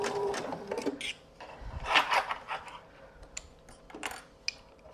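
A sewing machine sews around the edge of a small craft piece in short, uneven bursts of stitching and clicks, with quiet stops between runs.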